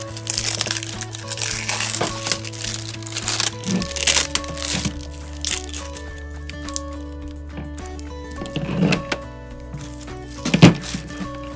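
The plastic wrapper comes off a Neptune battery for a 12 to 24 volt Power Wheels conversion, with close crinkling, crackling and crumpling in bursts and a few sharper crackles near the end, with no voice.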